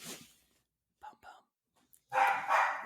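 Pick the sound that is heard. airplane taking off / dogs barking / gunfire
dogs barking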